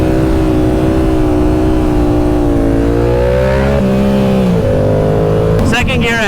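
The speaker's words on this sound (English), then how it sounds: "I didn't think I'd like the sound of this bike" A Yamaha R7 motorcycle engine accelerates up close, its loud pitch climbing through gear changes with steady rising tones, with a voice talking over it.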